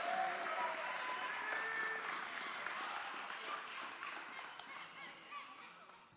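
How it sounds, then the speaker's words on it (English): A crowd applauds a lineup of streamers at a live esports final, steady broadband clapping and cheering that fills the whole stretch and slowly tapers off, with a few voices mixed in. "One more round of applause for our streamers."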